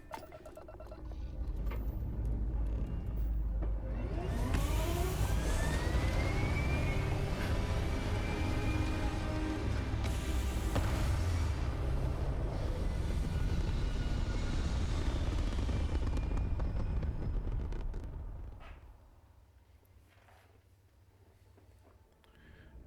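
A spaceship in the Starfield video game lifts off with a loud, sustained engine roar and rising whine that holds steady for about eighteen seconds before dropping away to a low rumble.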